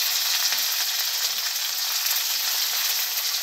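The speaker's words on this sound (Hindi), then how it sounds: "अब इसमें हम डालेंगे जो ब्लैक जीरा होते हैं ना, काली जीरा, वो हाफ टी स्पून। अब इसे थोड़ी सी फ्राई कर ले।" Half a teaspoon of black cumin seeds frying in a pan for a cauliflower and potato sabzi, a steady, even hiss of sizzling oil that runs close and unbroken with no voices.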